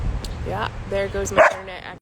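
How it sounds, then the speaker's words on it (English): A dog barks and yips in the background of a home room while someone talks over it, a few short barks rising to one louder bark near the end. "apologies if you hear my dog in the background."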